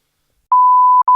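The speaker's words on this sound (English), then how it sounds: "We'll beep it, of course." A censorship bleep cuts across a comedy podcast: a steady mid-pitched tone holds for about half a second, breaks briefly, then returns in a short second burst, with no talking around it.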